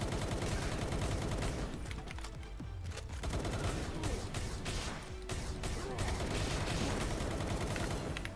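Sustained rapid fire from anti-air guns in the Palworld video game, dense and loud bursts of gunfire rattling almost continuously, with brief lulls, and a voice faintly present beneath the barrage.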